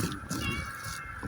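A cat, likely one that eats raw fish at a seaside market, gives a short meow under market noise and nearby voices.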